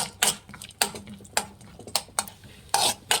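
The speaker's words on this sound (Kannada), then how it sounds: "ಚೆನ್ನಾಗಿ ಫ್ರೈ ಮಾಡ್ಕೊಳ್ಳಿ ಬೆಣ್ಣೆಯಲ್ಲಿ" Almonds frying in butter on a stove, stirred with a spoon that clinks against the pan in quick scraping strokes over a soft sizzle, close and fairly loud with no voices.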